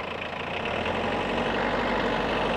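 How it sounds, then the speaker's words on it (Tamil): A Tata Sumo Victa engine revs up from a low idle, its heavy diesel-like rumble rising and holding at higher revs, close and loud with no talking. "இன்ஜின் சவுண்ட் எப்படி இருக்கு மட்டும் பாருங்கள்"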